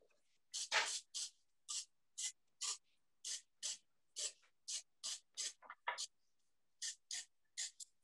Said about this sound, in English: Going to give that a little spray in a moment